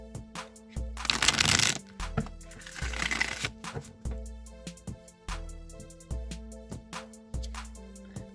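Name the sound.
shuffling a Rider-Waite tarot card deck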